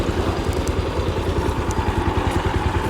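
A motorcycle engine runs close by at a steady idle, its low rapid chugging pulsing evenly and loudly the whole time without any talk.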